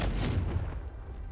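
Confringo blasting spell cast in the Hogwarts Legacy video game, a dense booming burst with a heavy low-end rumble that holds for about a second and then starts to fade.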